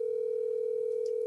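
A telephone call tone plays while dialing someone: one steady, unbroken electronic hum at even loudness, alone with no voices.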